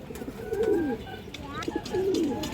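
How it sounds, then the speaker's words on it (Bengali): Cooing of a female tota giribaz pigeon: two drawn-out, falling coos with a short gap between them, close and moderately loud, with faint background sounds. "খুবই সুন্দর একটা তোতামাদি কবুতর"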